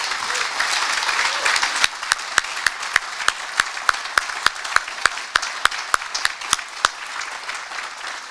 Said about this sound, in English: let's have one last round of applause for our 2025 Good Scout, Mrs. Wheeler